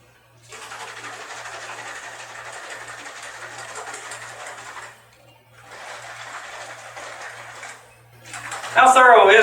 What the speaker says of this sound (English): Shake container thoroughly.